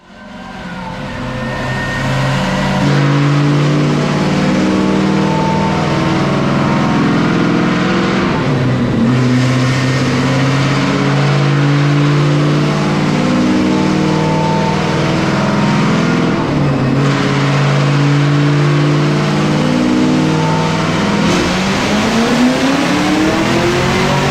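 A 2023 Chevrolet Camaro ZL1 V8 roars loud and close through repeated wide-open power pulls, engine pitch climbing steadily through the revs with brief drops between runs, no voices over it.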